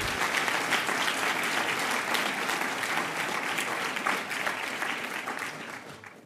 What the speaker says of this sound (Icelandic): Já, þeim megi klappa.